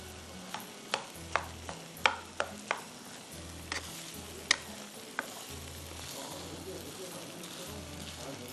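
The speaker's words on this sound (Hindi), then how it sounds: "अच्छी तरह से मिक्स करिए।" Egg fried rice being mixed in a pan, with a spatula scraping and tapping against the metal in irregular sharp clacks over a soft sizzle, while a voice talks intermittently underneath.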